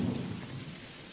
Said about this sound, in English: And it even rains on my bed.